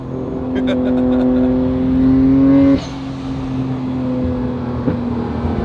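A Nissan Skyline R33 GT-R engine drones steadily with a strong low hum at about 30, swelling slightly louder before easing off after a few seconds, as if driving at speed.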